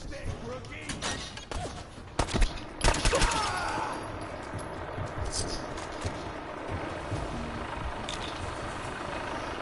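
Gunfire in the video game Fallout 4, with a few sharp loud bursts in the first three seconds over a busy background, then a quieter rumbling stretch.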